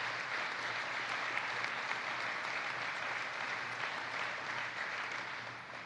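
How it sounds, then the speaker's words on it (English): Steady audience applause at a factory event at an automation company, a dense continuous wash of clapping at moderate level that tapers slightly at the end. "I don't have to pause for applause like that."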